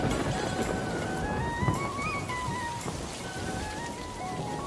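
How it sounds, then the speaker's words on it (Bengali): Steady cartoon rain falls over a village on a monsoon day, a dense continuous patter with no speech, while faint gliding musical tones drift above it. "শাপলা, দিয়া ও রাজু বৃষ্টির পানিতে ভিজতে ভিজতে নদীতে মাছ ধরতে যায়।"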